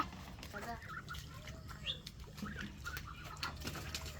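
Domestic ducks flap their wings beside a village pond, a light, rapid fluttering mixed with scattered bird calls and chirps, while voices murmur in the background.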